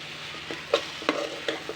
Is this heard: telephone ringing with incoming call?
no